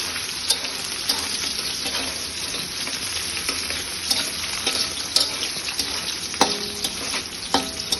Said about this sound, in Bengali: পেঁয়াজ ভাজা হোক ততক্ষণ